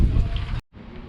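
Strong wind in Norway roars and buffets in a loud low rumble, briefly cutting out before gusting again.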